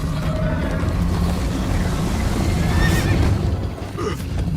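In the video game Minecraft Story Mode, a horse lets out a loud whinny over a busy chase scene with faint hoof clip-clop and steady game background noise.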